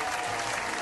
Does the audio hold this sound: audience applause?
yes